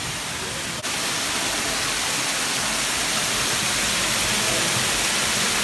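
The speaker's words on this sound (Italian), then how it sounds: "Qui c'è la cascata." Steady, loud roar of a waterfall, a dense continuous rush of falling water filling the whole clip with no pauses.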